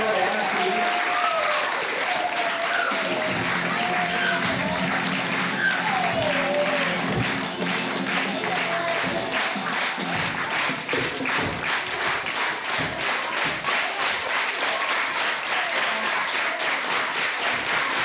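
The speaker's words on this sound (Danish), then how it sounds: "Og I må også godt klappe af publikum" An audience claps steadily and warmly after a children's musical performed by a first-grade class, a dense, sustained round of applause with crowd noise and voices talking over it throughout.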